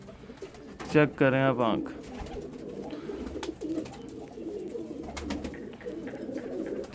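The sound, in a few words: pigeon cooing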